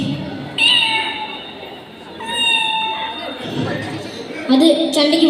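A child imitates a cat meowing with several drawn-out, high, tonal mews, the last one louder and rising, close to the microphone with little background.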